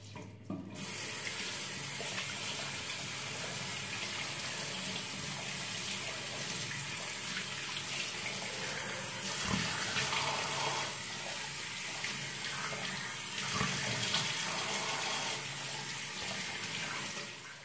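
Tap water runs steadily into a sink, a loud continuous gush with splashing changes as someone rinses their face, no talking.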